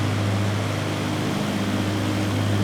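Light Pipistrel SW121 aircraft in Flight Simulator 2020, its propeller engine giving a steady, loud drone with a low tonal hum, constant throughout with no talk.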